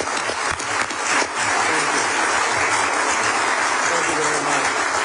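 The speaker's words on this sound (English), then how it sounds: "Would you all say thank you with your applause?" An audience applauds a tech talk featuring NVIDIA's Jensen Huang, sustained clapping from a large crowd filling the whole span, with voices murmuring underneath.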